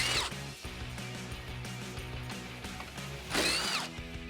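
A power tool spins out 10mm bolts from the top of a 2012-2015 Toyota Tacoma headlight, a whirring drill-like buzz with ratcheting texture and a short louder burst near the end, close up.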